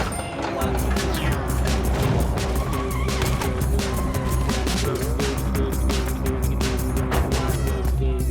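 Car skidding and crashing in the racing video game What the Car?, a loud, continuous run of engine roar, tire squeal and repeated impact bangs, with game music layered underneath throughout.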